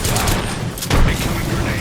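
Gunfire in a video game, dense rapid shots blending into a continuous noisy barrage with a heavier burst midway, under voice lines.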